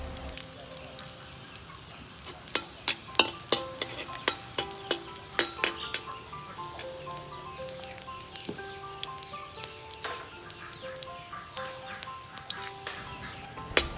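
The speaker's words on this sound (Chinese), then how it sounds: "先炒一下我们的大蒜" Garlic stir-fried in a wok: a soft, continuous sizzle with a run of sharp spatula scrapes and taps on the metal, close and fairly quiet, with no talking.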